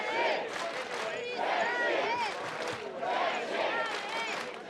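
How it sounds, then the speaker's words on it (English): Spectators roar and shout wildly for the Czech Republic team at a Battle of the Nations 2016 five-versus-five armoured combat bout, a dense, continuous wall of crowd noise with rising whoops and cheers throughout. "listen to the crowd now going absolutely crazy for the Czech Republic"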